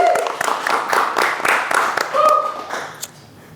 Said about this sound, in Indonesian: Rehan guys, tepuk tangan guys.